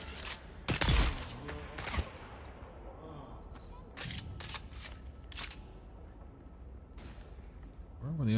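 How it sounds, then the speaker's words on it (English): Bursts of gunfire in the video game Dune: Awakening: a couple of sharp loud cracks early, then scattered quieter shots and rattling volleys, with players talking in between. "Where were the other two shooting from?"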